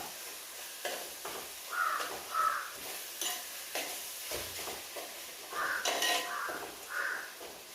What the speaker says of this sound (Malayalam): കാക്ക അവിടെ കടന്നിട്ട് ഹാ എന്ന് പറയുന്നുണ്ട്